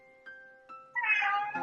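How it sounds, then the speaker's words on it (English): A pet cat meows a few times indoors, starting with short faint chirps and ending in a louder, drawn-out meow at close range, with a steady faint tone in the background. "You might hear her meowing on the floor."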